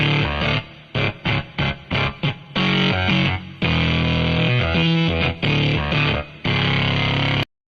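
A distorted electric guitar tone built from Mario's "Yahoo" voice sample plays choppy, stuttering bursts, then longer sustained chords, loud and heavily effected, ending abruptly.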